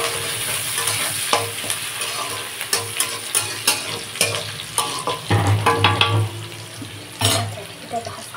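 Onion, garlic and green chili fry in a pan, giving a steady close sizzle broken by repeated scraping stirs, with a brief clatter of utensils and no talk.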